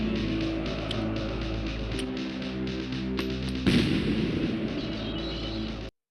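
Gunfire and explosions from the low-budget film Hobgoblins, a dense, steady low rumble of shots and blasts with a sharper, louder burst partway through, then an abrupt cut to silence.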